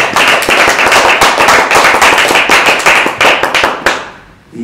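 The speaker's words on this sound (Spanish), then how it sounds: "Para los que pido un aplauso, sin más." Loud, dense applause from a political youth rally audience, sharp overlapping claps filling nearly five seconds before dying away abruptly at the end.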